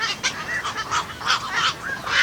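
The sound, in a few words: night herons calling in a colony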